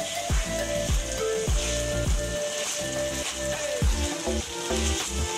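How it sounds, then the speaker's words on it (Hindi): Chicken pieces browning in a pan for a spicy green hariyali curry give off a steady, close sizzle and crackle throughout, with soft clinks of a spoon stirring. "चिकन का कलर जब तक चेंज ना हो, जब तक इसको भून लें।"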